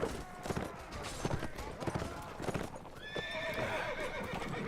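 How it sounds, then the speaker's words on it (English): Hooves clatter rapidly with horses neighing and whinnying amid a chaotic rush of movement, several animals close by, in a Mount & Blade: Warband siege battle. "Horses running around like crazy, getting in the way."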